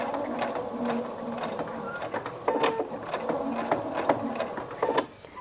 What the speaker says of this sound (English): I'm going to start stitching around. And you want to just stitch really slow.